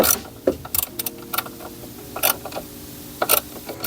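A throttle body is fitted onto a twin-turbo Porsche V8 engine, with irregular metallic clicks, creaks and clunks of parts being handled and seated up close, some in quick clusters, and no voices.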